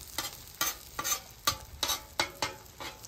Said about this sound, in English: Notice how I'm just pulling the eggs together.